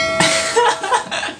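A short bell ding sound effect rings out brightly and sustains briefly before fading, loud and close, with no speech.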